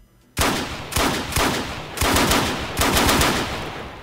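Bursts of automatic rifle fire in the Arma III military video game, four long rapid-fire strings separated by short gaps, loud and close with no talking over them.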